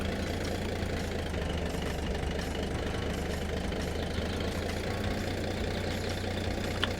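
An RV engine in the Roblox game RV Cooked, run in fifth gear while crossing a bridge, gives a steady, loud mid-to-low drone with slight knocking texture and no talking.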